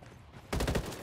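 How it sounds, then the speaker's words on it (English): Gunfire in the shooter game Ghost Recon Wildlands: a sudden rapid burst of automatic shots kicks in halfway through, loud and close after a quiet lead-in. "Taking fire."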